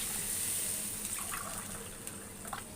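Water pouring into a pan while making rava kichadi, a quiet steady gushing stream with soft splashes, heard alone in a kitchen.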